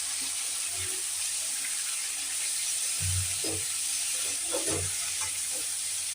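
Chicken with added potatoes, onions and tomatoes sizzles in a pan, a soft continuous hiss broken by several low clattering stirs and scrapes near the middle and end.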